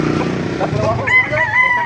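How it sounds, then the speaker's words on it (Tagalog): A rooster crows nearby at a chicken market in Baliuag, Bulacan, its drawn-out call rising over a low background rumble and faint voices. "Yung mga manok dito."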